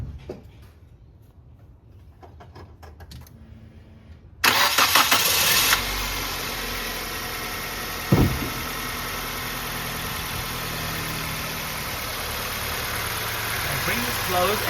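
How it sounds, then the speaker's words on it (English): A Nissan Pulsar engine cranks and fires after a quiet stretch, catching with a loud burst before settling into a steady, even idle that carries on, with a brief knock partway through. "So I'll turn the car on."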